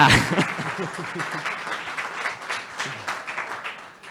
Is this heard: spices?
no